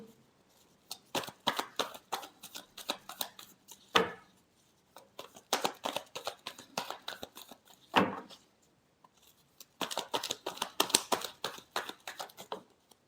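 A tarot deck is shuffled by hand in quick bursts of riffling, papery flicks broken up by a few sharp taps and pauses, close and quiet with no voice over it.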